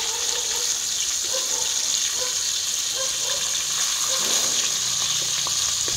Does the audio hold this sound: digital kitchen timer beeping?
no